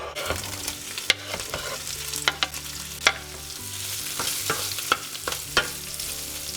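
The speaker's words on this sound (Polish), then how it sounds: "Olej mamy rozgrzany, więc w takim razie możemy wrzucać śmiało kiełbasę i smażymy do zrumienienia." Sausage sizzles and crackles in hot oil, with a steady fizzing hiss broken by sharp pops and occasional stirring clatter.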